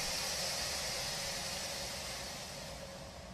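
Steady broadband hiss of train air brakes venting during a 10-pound brake-pipe reduction in the Run 8 railroad simulator, continuous and fairly loud, fading slightly toward the end with no talk over it.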